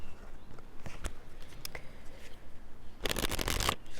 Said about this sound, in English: let me pull a few cards here